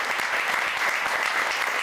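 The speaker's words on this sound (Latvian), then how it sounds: "Lūdzu, sagaidām ar aplausiem." Applause from an audience at a Riga event as a speaker is welcomed onto the stage, a short burst of even, steady clapping heard alone.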